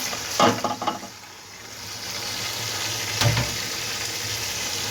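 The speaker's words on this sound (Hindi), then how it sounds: "अब जो है हम इसे तकरीबन 20 से 30 सेकंड तक जो है फ्राई करेंगे, ताकि मसालों का कच्चापन दूर हो जाए" Spices with lemon juice frying in a pot for beef yakhni pulao, a steady close sizzle with a few clattering stirs near the start and another knock later, no talk.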